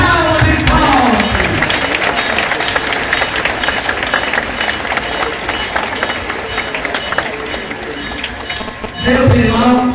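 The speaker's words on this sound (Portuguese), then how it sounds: "vamos saudar de Deus uma salva de palmas e palmas" Large crowd at an outdoor religious procession in Orobó, Pernambuco, clapping loudly and continuously for nearly the whole stretch, a dense steady applause with voices mixed in and a brief swell near the end.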